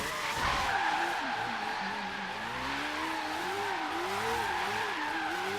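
Mazda RX-7 held in a big-angle drift, tires skidding and squealing steadily over a droning rotary engine whose pitch wavers with throttle, loud and continuous throughout.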